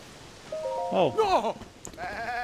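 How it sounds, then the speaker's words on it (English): Goats bleat in Legend of Zelda: Tears of the Kingdom, a few wavering, rising-and-falling calls in close succession over light game ambience, with a voice talking faintly alongside. "those are my white goats"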